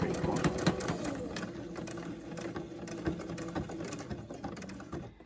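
A sewing machine stitches a fabric face mask in a steady, close mechanical whir with rapid needle clatter that runs continuously until stopping near the end.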